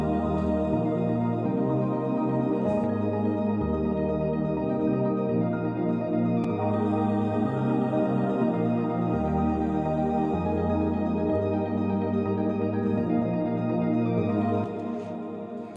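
Melodic house intro, with layered sustained synth chords and a soft repeating melodic line that changes pitch every couple of seconds, steady and moderately quiet throughout with no voices.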